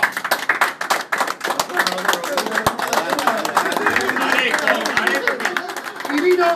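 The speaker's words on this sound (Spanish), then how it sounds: "¡Un aplauso!" Guests at an asado with former boxers break into lively hand clapping, a dense, close crackle of many pairs of hands that keeps going steadily with a few cheers and background chatter mixed in.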